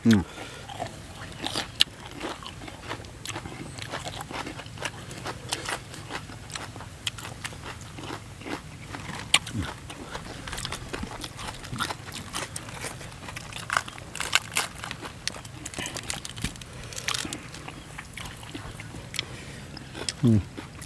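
Someone chews crunchy fried squid close to the mic, producing repeated crisp bites and crackling crunches throughout.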